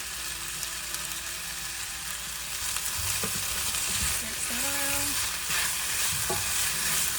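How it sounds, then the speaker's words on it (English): Garlic added late to a pan of garden-fresh vegetables fries with a loud, continuous sizzle, broken by stirring scrapes and a few utensil knocks close by. "I'm just going to put a little bit of garlic in just at the last minute so that we don't burn it"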